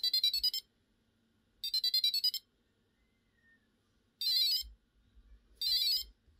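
An Arduino passive buzzer from an Elegoo starter kit sounding four loud, bright electronic bursts, each made of rapid beeps, with silent gaps between them.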